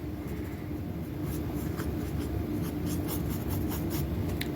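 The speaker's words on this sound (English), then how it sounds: "Just kind of giving an outline with the pencil." Pencil sketching an outline of a hand-drawn game enemy on paper, a continuous close scratchy scraping with quick strokes, no talking.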